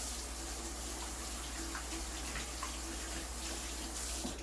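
Tap water runs steadily over a toy mushroom being rinsed at a sink, a continuous close hiss with no talking.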